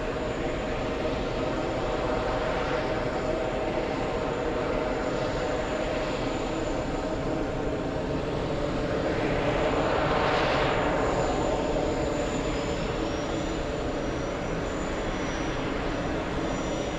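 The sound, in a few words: Lufthansa airplane crossing the runway at JFK airport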